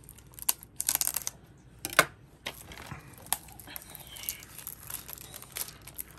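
Crinkling and tearing of plastic wrap coming off a Nick Jr. DVD case, a run of sharp, close crackles and rips in uneven bursts, louder near the start and thinning out toward the end.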